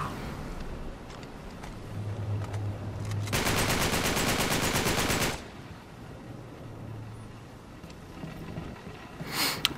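Gunfire in the Uncharted 3 video game on Crushing difficulty: intermittent shots, then a dense two-second burst of rapid automatic fire, with a low vehicle or boat hum underneath and a final sharp blast.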